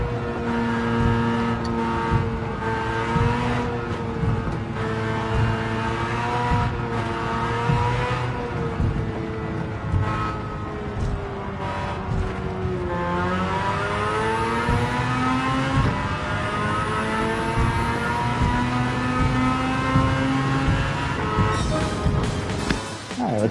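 A 13B rotary-engine-swapped car races in Gran Turismo 7, its buzzing rotary note revving steadily and rising and falling through gear changes and corners, loud and continuous throughout with occasional tire noise.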